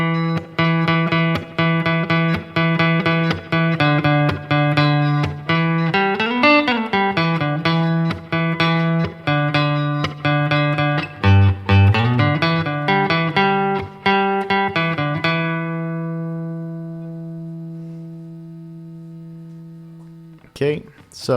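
Electric guitar plays the first fill lick from a song, a busy run of picked notes and bends. It ends on a sustained, fading note, then falls silent, with a brief sound at the very end.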